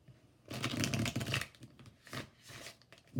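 Close, crisp riffling of cards being shuffled in two bursts, a longer one followed by a shorter one, with no talking.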